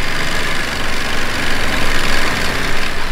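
A 2025 Ducati Monster motorcycle engine idles loudly up close, a rough, rattling throb that pulses steadily with a slightly clanking, tinny edge.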